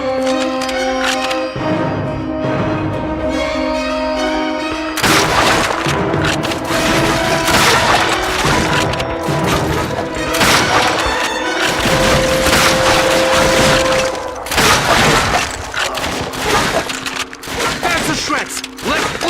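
Rapid machine gun fire from a WWII shooter video game on PlayStation 2, dense and loud bursts throughout amid explosions and other game sounds.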